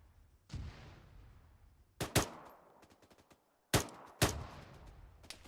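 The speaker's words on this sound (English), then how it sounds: "Those sideways shots through the trees, man. They're hard to hit." Arma 3 gunfire: several loud, sharp shots crack in two quick bursts, each followed by a decaying echo, with scattered lighter pops in between and a brief silence before the second burst.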